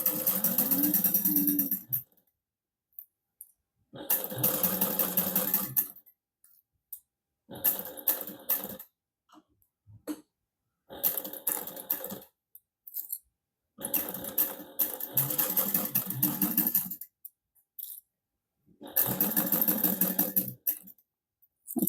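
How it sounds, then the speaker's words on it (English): A home sewing machine stitches along the edge of a stocking's lining in several separate bursts, each a close, rapid mechanical whir broken by short pauses of silence. "we're going to sew this together along this whole edge"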